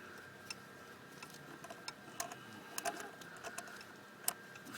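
A ratchet with a 13mm socket and extension turns out a thermostat housing bolt on a Saab 9-5 four-cylinder turbo engine, producing faint, irregular light ticking clicks close by; no talking is heard.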